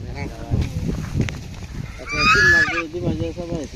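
Domestic ducks honking in a rural Bangladeshi village, a loud burst of nasal calls rising above ongoing conversation and breezy background noise.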